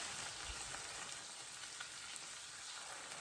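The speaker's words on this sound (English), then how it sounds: "I'm going to let this flour saute for about 2 to 3 minutes or until it cooks off" Flour sautéing in a pan gives a faint, steady sizzle and crackle close by, with no talk.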